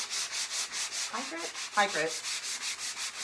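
Rhythmic back-and-forth rasp of a high-grit sanding block rubbed over a wooden wreath, steady strokes about every quarter second, close and moderately loud, with a couple of brief squeaky tonal scrapes midway.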